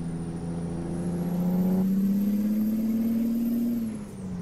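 A loaded Kenworth T600 gravel truck's engine runs roughly with a steady, close drone, its pitch creeping upward and then sagging near the end as it falters.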